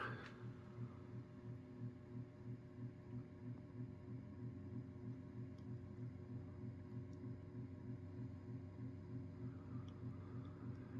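A Heritage Spector ceiling fan running on high speed gives a steady low hum with a faint rhythmic pulsing, continuous and even throughout.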